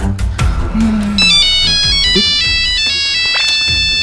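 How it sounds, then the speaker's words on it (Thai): A bright, tuneful phone ringtone plays a repeating melody over busy background noise and low murmuring. "โทรศัพท์เข้าอ่ะ"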